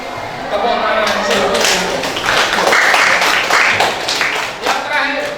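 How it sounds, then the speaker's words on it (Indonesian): Classroom applause from a group of students, a dense burst of clapping that swells in after half a second and holds steady, fairly close and loud, with some voices mixed in before it tapers near the end. "Tepuk tangan"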